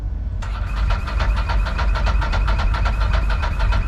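A car engine cranks with rapid rhythmic chugging, then catches and runs roughly, loud and close, no talking.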